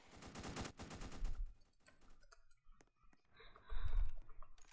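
Gunfire in the Roblox game Prison Life: a rapid automatic burst at the start, then scattered clicks and a few isolated shots, followed by another heavy shot, all fairly quiet.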